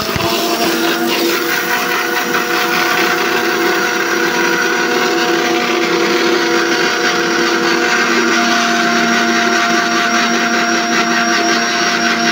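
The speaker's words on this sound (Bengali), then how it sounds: "গুঁড়িয়ে নিয়েছি, এবার একটু জল দিয়ে বাটবো" A kitchen mixer grinder powders dry spices for an okra dish with mustard and green chilies, its motor whining loud and steady throughout with a constant buzzing hum, close up and without voices.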